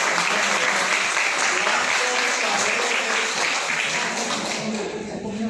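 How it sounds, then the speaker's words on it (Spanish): Audience applause at an oral history gathering, a thick, sustained round of clapping from a room full of people, close and loud, with voices mixed in beneath it and easing slightly toward the end. "el aplauso que se quiere."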